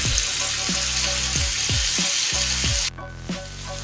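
Kaleji pota, liver and tripe masala with a splash of added water, sizzles loudly in a pan on a medium flame, a dense close bubbling hiss with rhythmic stirring scrapes that suddenly quiets near the end.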